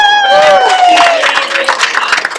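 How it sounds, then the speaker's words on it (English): A crowd claps and cheers, with a voice rising over the noise at the start before the clapping carries on. "One last round of applause."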